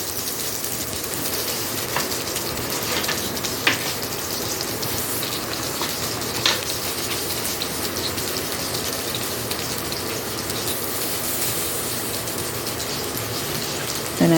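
Sliced small onions and tomatoes sauté in a hot pan, giving a steady, even sizzle with a few faint clicks and scrapes, heard close with no talking.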